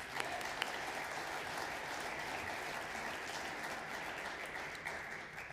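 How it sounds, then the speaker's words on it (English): A crowd applauds steadily throughout at an awards ceremony, a dense wash of clapping hands at even loudness with no voices on top. "So give yourselves a round of applause"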